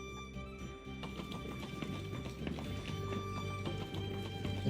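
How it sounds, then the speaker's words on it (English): Horse hooves clip-clop at a steady, even pace as a carriage travels a steep canyon path in the game Steam Prison, moderately close over a dense, busy background, with no voices. "Horses' hooves in the crack and the creaking of the carriage combined created a peculiar rhythm."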